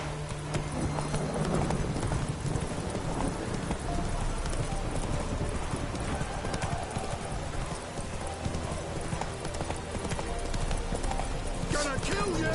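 Hoofbeats of the horse Roach galloping in The Witcher 3 on PS5, a steady clip-clop running under busy game sound and a voice, with a brief whinny in the mix.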